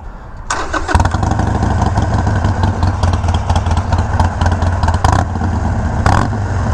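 A Harley-Davidson Iron 1200 fitted with Vance and Hines slip-on exhausts starts up close by and settles into a loud, deep, throbbing idle with a few sharp throttle blips.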